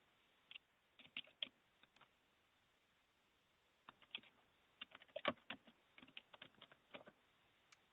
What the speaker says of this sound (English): I can hear somebody typing, so somebody may not be on mute